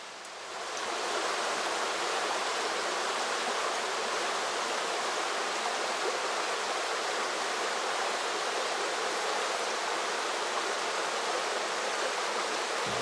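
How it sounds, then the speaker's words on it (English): A brook flows down a moist, forested north-facing hillside among boulders, producing a steady, dense rush of water that holds even and unbroken from start to finish. "The water draining down these hillsides into the brook"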